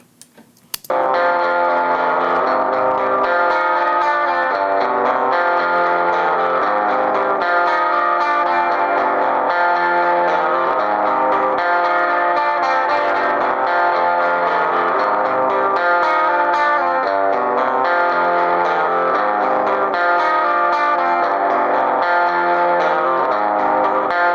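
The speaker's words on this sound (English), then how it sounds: "We want to go for a more lo-fi delay, so I'm going to put it on AM radio mode" A gritty, lo-fi delay effect in AM radio mode thickens a sustained, distorted musical loop, with echoes repeating steadily and continuously at a loud level throughout.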